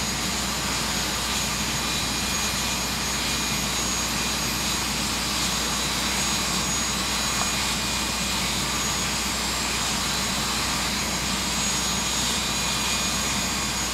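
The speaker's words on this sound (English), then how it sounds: "Two of the quickest and fastest jet cars in the country getting set to make a pass for you right here at the Hot Rod Reunion" Jet dragster engines idle at a drag strip during a hot rod reunion, producing a dense, continuous roaring hiss that stays loud and even for the whole stretch, with no talk.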